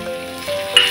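Chopped onion frying in oil in a pan for a chili thecha, a steady close sizzle with a brief stir near the end.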